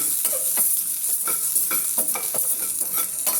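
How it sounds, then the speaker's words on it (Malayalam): Grated coconut roasting in a pan, giving a steady close sizzle broken by regular scraping strokes of a stirring spoon, with no voices. "തേങ്ങ മൂത്ത് വന്നു"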